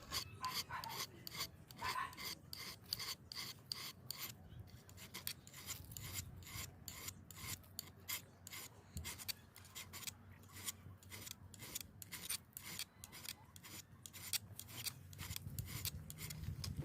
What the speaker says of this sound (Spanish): Es muy fácil de sacarle filo.